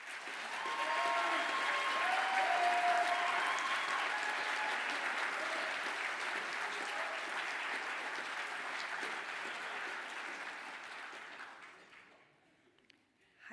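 Sustained audience applause for graduates standing at a business school graduation ceremony, a dense steady wash of clapping that swells early, holds for about ten seconds, then fades to near silence, with a few faint voices underneath.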